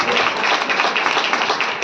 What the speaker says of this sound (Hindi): ताली बजाकर प्रभु के महिमा